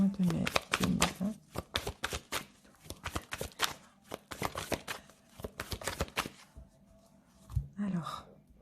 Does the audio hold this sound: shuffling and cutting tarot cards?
yes